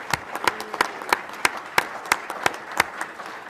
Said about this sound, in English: how about just a round of applause for Rod?